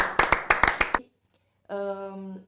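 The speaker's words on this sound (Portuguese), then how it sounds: "Tem uma salva de palmas aqui pro profissional" One person claps for a camera operator at home: about seven quick, sharp claps close by within a second, then a pause and a short, steady voiced tone.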